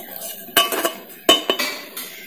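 A metal lid is set onto an idli steamer full of batter-filled moulds, giving two clustered bursts of clanking and clinking, each a sharp impact followed by a few quicker rattles, close and fairly loud.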